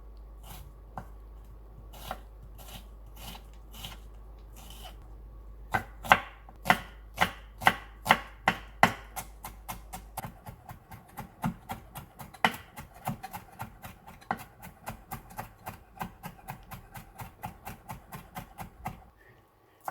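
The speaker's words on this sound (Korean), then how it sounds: "소스에 들어갈 양파 가늘게 잘라 곱게 다져줍니다" A knife chops onion rapidly and steadily on a cutting board, quick close taps that speed up into a fast mincing rhythm, with no talking.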